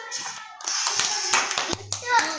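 A class of children claps together for a classmate, a burst of fairly loud, dense hand claps mixed with young voices chattering, with a short tonal beep partway through.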